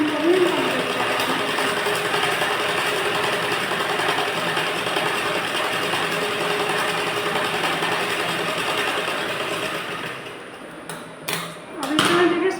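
A sewing machine sews a line on a Morni-style blouse, whirring steadily and close for about ten seconds before slowing to a stop, followed by a few sharp handling clicks.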